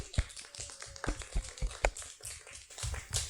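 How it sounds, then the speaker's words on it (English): An audience welcomes a speaker at a business talk on energy cost savings with scattered, uneven clapping, several sharp individual claps standing out over a thinner patter, moderately close. "let's give a warm round of applause to welcome Julia"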